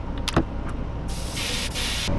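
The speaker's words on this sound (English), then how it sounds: "I'm spraying that from the top down." Bursts of pressurized spray paint hiss onto a swimbait fishing lure, a couple of short puffs followed by a longer steady spray, close up.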